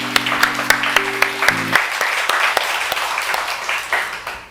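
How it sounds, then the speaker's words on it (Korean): A church congregation breaks into sustained applause, dense overlapping claps at close range, beginning over a brief tonal sound and fading slightly toward the end. "하나님께 영광의 박수 올립니다."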